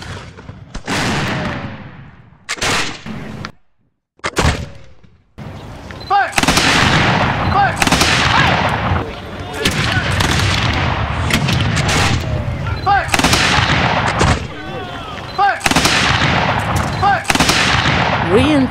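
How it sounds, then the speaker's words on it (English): Musket volleys and cannon fire at a historical reenactment of a Revolutionary War battle with Cornwallis, with loud repeated bursts and booms, brief gaps of quiet, then sustained rattling fire with some voices in between. "They are still firing."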